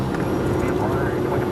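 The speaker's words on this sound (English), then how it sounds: "our small Cessna plane approaches Scarborough Shoal" A small Cessna propeller plane in flight over the South China Sea near Scarborough Shoal gives a steady, loud low engine drone that holds constant without a break.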